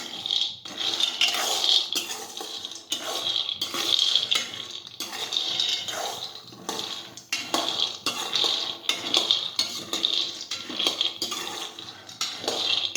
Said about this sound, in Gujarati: હવે આપણે એક કડાઈમાં સિંગ છે તે શેકી લેશું। આ રીતે ફેરવતા જશું।